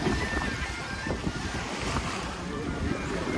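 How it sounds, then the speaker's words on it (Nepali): Swollen river after rain, flow high, heard as a steady broadband rush of churning water mixed with wind buffeting the microphone, loud and continuous with no talking. "यो यार छाले आयो जस्तो भएको छ"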